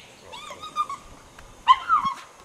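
A dog near a beaver den whimpers and yips in two short bursts of high, wavering whines, close and moderately loud, with a quiet pause between them.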